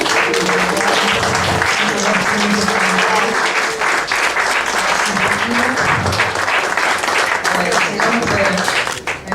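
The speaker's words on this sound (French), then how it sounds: "Et c'est sous nos applaudissements," A crowd at an official handover ceremony gives loud, sustained applause throughout, with voices speaking over the clapping.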